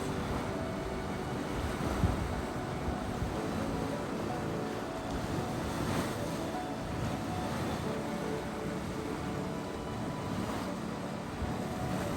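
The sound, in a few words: mud pot splashing at Mud Volcano, Yellowstone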